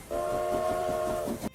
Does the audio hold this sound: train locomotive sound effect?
yes